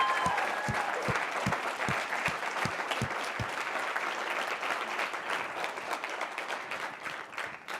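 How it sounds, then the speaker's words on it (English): Audience at a TED-style community event applauds for its speakers, dense sustained clapping from a crowd in a room with a few sharp nearby claps early on. "Can we please get a round of applause for our speakers?"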